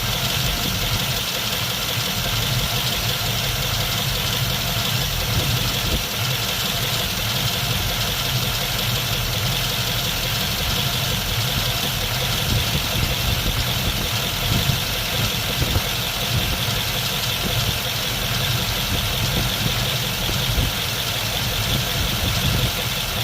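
A 1951 Mercury engine with straight pipes idles after a carburetor adjustment, giving a steady, continuous, close rumble with a slightly uneven pulse throughout.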